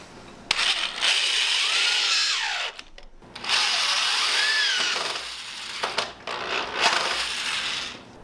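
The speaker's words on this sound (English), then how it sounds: "I'm going to drill this in with a screw" A power drill whines in two long bursts as a screw is driven into pallet wood, separated by a brief pause, with a short final burst and clicks.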